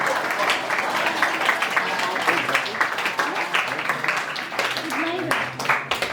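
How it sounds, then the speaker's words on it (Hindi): A church congregation at a youth committee gathering in Nepal applauds in welcome, a dense, steady wash of many hands clapping close by for several seconds, with voices mixed in. "सबैजनालाई हामी एकमुष्ट रूपमा ताली बजाएर, ठुलो ताली बजाएर हामी स्वागत गरौँ न"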